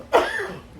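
Someone gives a single sharp, close cough indoors at home, which fades quickly into quiet.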